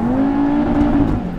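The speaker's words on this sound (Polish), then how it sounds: "porobiony wydech jest" An Audi RS3 with a modified exhaust, about 400 hp, accelerates hard on a winter road, its engine note rising steadily in one continuous loud pull close to the microphone.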